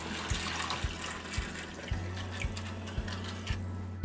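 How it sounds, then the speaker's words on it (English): Water is poured into a toy micro boat racing track playset. It sounds as a continuous close splashing and trickling stream, with a low rhythmic motor-like pulse from the water-activated toy boats underneath. "Here's some more water for the boat."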